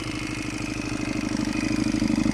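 An MR 250 Destro motorcycle engine runs steadily with a low, throbbing pulse that grows slightly louder and rougher toward the end, close and continuous with no voices.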